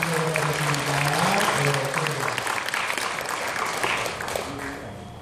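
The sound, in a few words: applause from a church congregation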